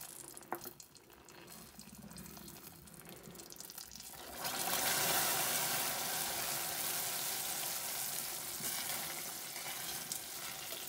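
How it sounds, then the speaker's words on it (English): Red candy apple sugar syrup with added coloring bubbling hard on the stove, a loud steady hissing, frothing boil that surges up partway through and stays strong. "It will bubble up. Don't worry about the smoke and the bubbling."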